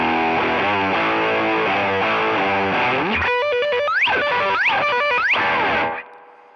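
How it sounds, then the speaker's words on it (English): A heavily distorted electric guitar through an overdrive pedal feeding a distortion pedal on a Fender Tone Master Pro plays thick sustained chords, then quick stepped notes with sharp upward bends, loud and saturated before cutting off. "the overdrive is really pushing my distortion pedal"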